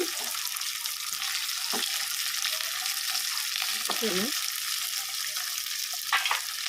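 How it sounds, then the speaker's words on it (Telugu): Drumstick pieces frying in oil for a tamarind pulusu, a continuous close sizzle with occasional stirring clatters, no talking. "మునక్కాయలు ముక్కలు వేసుకొని ఇట్లా నూనెలు ఇవి కూడా కొద్దిసేపు ఫ్రై చేసుకోవాలి"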